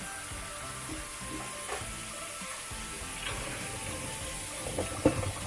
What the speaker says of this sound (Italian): Raffreddiamoli con dell'acqua fredda